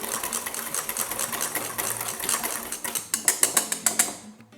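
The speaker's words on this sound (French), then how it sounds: "Là, on mélange les poudres." Dry powders for pastry cream are mixed in a bowl, giving a rapid, steady run of close mechanical clicking and clinking that gets sharper and more spaced out before stopping.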